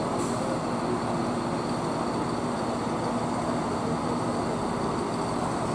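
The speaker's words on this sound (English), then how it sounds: "This train's from Ashford International to Eastbourne." A Southern Class 171 diesel train departs Hastings for Eastbourne, giving a loud, steady engine drone and rolling rumble throughout, close by, with no talk.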